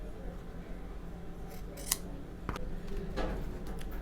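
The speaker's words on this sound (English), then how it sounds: "Just trim off the little excess." Scissors trimming excess Ankara fabric for a handmade mini bag: a few quiet, close snips and crisp cutting clicks over soft background hiss, no talking.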